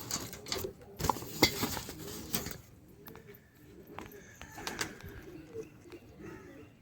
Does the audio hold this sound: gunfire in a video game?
no